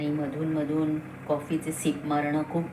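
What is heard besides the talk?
No everyday noises stand out.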